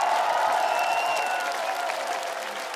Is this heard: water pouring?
no